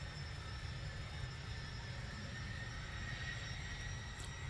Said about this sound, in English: That's Cessna citation.